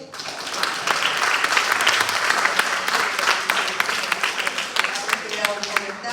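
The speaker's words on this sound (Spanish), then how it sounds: "un aplauso." An audience at a Spanish-language talk on family and adolescence applauds in a sustained, even round of many hands clapping together. The clapping stays full for several seconds before beginning to thin, with voices faintly mixed in.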